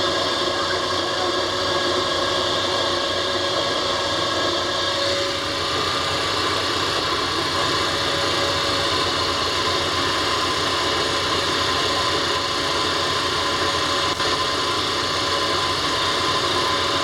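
The Tiger Shark's motor runs continuously during a test drive, a steady droning hum with whining tones and constant vibration, loud and unbroken.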